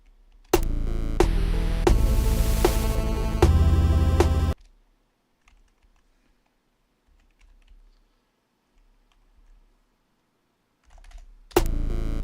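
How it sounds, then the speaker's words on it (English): Rapid computer keyboard typing, close and loud, runs in a dense burst for about four seconds, then near silence follows before another short burst of key clicks at the end. "Sorry if that clicking sound is bothering anyone from the echo."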